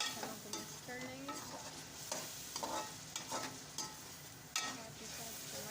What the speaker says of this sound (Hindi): जी तो अब हम सारे मसालों को मिक्स कर लेंगे।